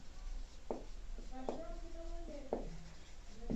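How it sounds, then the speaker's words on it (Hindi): Chalk or marker scrapes and taps on a classroom board in a few short strokes, with a faint voice of a teacher behind. "चलिए यहाँ पर लिखते हैं"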